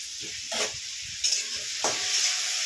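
Turmeric, chili powder and tomato frying in a pan, a hissing sizzle broken by three or four bursts of stirring, close up with no voices.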